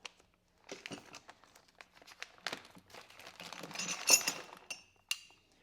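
Plastic bag of parts for a Toyota Highlander lift kit being handled up close, with faint crinkling and small metallic clinks of brackets knocking together in irregular bursts.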